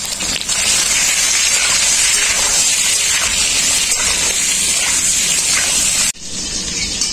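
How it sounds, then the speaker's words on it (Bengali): Eggplant pieces fry in hot oil with a steady, loud sizzle and hiss, close up and continuous, briefly dipping near the end before resuming. "ওই তেলেই আমি বেগুনগুলো ভেজে নেব।"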